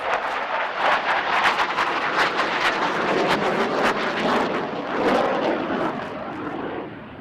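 A jet aircraft performs aerobatic maneuvers at the Aero India 2025 air show, its loud, continuous broadband roar surging and fading as it passes close overhead, with no voices heard.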